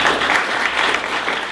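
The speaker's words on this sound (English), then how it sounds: "If we could give them a round of applause for bringing this here to Detroit" A crowd at a Detroit leadership event gives a round of applause, dense and even clapping that fills the short moment without any talk.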